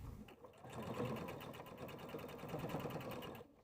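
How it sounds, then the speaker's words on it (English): A sewing machine basting side pockets onto a bag exterior runs in one steady, close stitching burst of a few seconds, then stops, with no voices over it. "We're going to step to our machine and just baste these side pockets right in place."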